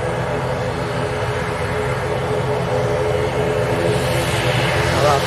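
An airplane takes off at Leite Lopes airport in Ribeirão Preto, a loud, steady engine roar that fills the whole clip without pause, heard from fairly close.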